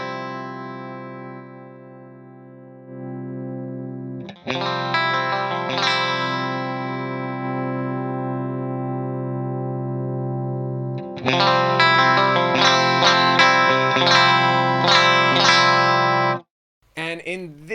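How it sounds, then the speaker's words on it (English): A clean 1980s-style electric guitar runs through a studio compressor at stock settings, sustained chords ringing evenly with a shimmering chorus-like sheen, a held chord followed by a brighter strummed passage that stops abruptly near the end. "Let's add some compression. This is a studio comp at stock settings."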